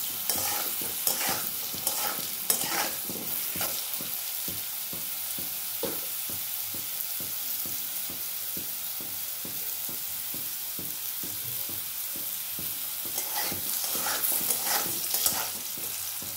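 Diced potatoes coated with turmeric sizzle steadily in a wok for a paneer and potato dish, with repeated scraping strokes of a spatula stirring them throughout, close and fairly loud.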